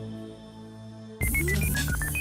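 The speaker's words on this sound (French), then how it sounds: "La régie fait maintenant le numéro." After a quiet hum, a telephone number is dialed: about eight short keypad tones follow one another quickly, each at a different pitch.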